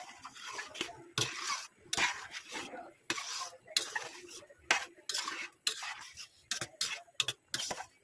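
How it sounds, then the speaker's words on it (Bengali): Palm seed kernel morabba simmering with milk is stirred in a pot, giving a run of close, uneven metal scrapes and clinks in quick short strokes. "এখন আবার একটু লাড়া দিয়ে নেবো"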